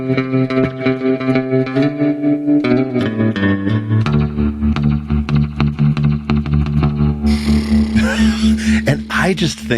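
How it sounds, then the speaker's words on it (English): Bass guitar played through spring reverb and tremolo effects, with sustained low notes and a dense, washy tail that changes texture partway through. It sounds loud and continuous, with some voices reacting over it. "so all I did was put a little bit of spring reverb and tremolo on"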